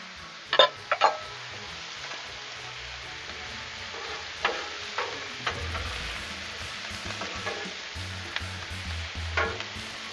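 Peppers and onions sizzling in oil on a Blackstone griddle, a steady close fry with a few sharp clacks and scrapes of a spatula, no talking.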